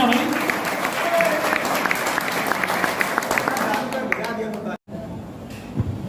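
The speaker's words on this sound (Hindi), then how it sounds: "लखनऊ के लिए तालियों में कंजूसी नहीं होनी चाहिए भाई" Audience applause fills a pigeon flying club prize ceremony in Lucknow, steady clapping from a crowd running under a voice speaking over it, breaking off briefly near the end.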